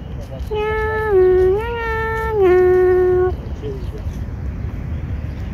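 White cat giving one long, drawn-out meow with rising and falling pitch, loud and close, followed by quieter outdoor background.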